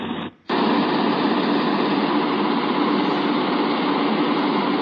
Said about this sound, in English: Construction equipment.